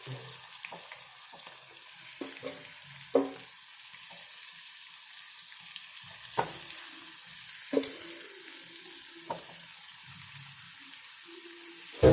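Chili powder and turmeric are roasted together in a pan, giving a thin, steady sizzle with scattered clanks and taps of a spoon against the metal, quiet and close, with no speech.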